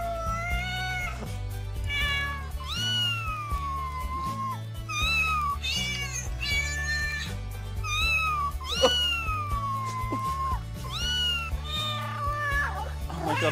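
Cat meows from a novelty song, repeated pitched mews sung in a melody over a steady looping bass and drum backing, loud and continuous.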